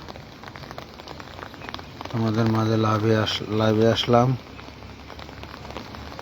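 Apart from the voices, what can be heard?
rain falling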